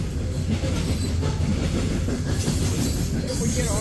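A loaded coal freight train rolls past on the rails as a loud, continuous rumble with faint clatter and a rising hiss of wheels, heard close and steady throughout.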